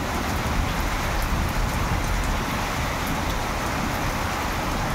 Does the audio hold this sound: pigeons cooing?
no